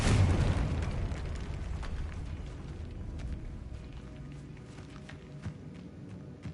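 Confringo fire spell blast in the video game Hogwarts Legacy, a deep rumbling explosion bursting loudly at the start and slowly decaying into crackling debris and faint footsteps.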